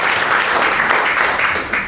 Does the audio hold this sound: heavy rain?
no